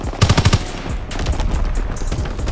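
Rapid bursts of rifle fire from a WW2 shooter game, a Volk rifle with a 4x scope: about six sharp, loud shots in quick rhythm, then a dense rumble of gunfire and battle noise.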